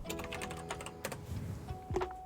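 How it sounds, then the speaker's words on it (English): Keys on a computer keyboard clatter in quick, irregular bursts of typing, faint and close, with brief pauses between the runs. "why does the typing just not work in here?"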